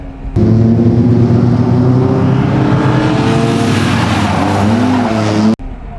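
An E36 M3 four-door slicktop drifts with a loud, sustained tire squeal over a droning engine that rises in pitch, running close for about five seconds before cutting off abruptly.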